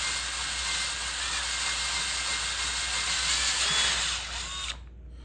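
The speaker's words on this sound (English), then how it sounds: "I'm very, very carefully drilling the hole before I lean backwards to get it past the wood" A power drill bores a hole through hardboard and into the wood beneath, a steady continuous whir that holds for nearly five seconds before cutting off abruptly.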